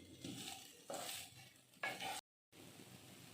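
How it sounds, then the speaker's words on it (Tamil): A spoon stirs mashed potato masala in a hot pan for samosa stuffing, giving soft scraping sweeps and a gentle sizzle in short bursts, with a brief gap near the end. "உருளைக்கிழங்கு ஆட் பண்ணதுக்கப்புறம் 1 நிமிஷம் நல்லா வதக்கிக்கிட்டோம்"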